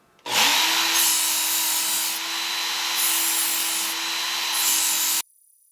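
An electric belt knife sharpener on an extra coarse 120 grit belt starts up and grinds continuously for about five seconds, the abrasive hiss swelling and easing in regular passes before it cuts off abruptly; no one speaks.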